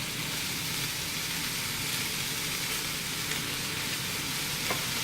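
Cabbage fries in a pan with a steady, dense sizzle and crackle, heard close and unbroken throughout, with a faint tap near the end.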